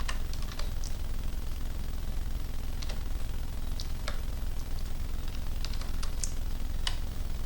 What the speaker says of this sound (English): I keep typing the code here